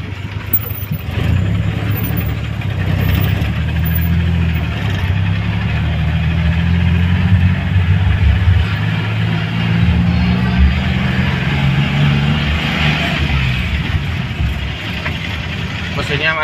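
Daihatsu Hijet 1000cc engine rumbling and throbbing low while the van drives, a steady close drone under someone talking throughout.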